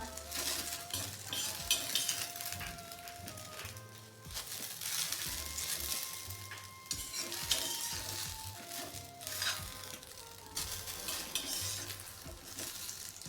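Okra roasting dry in a pan for chutney, with repeated scraping and stirring strokes and a light crackling sizzle, close and fairly quiet, under steady background music.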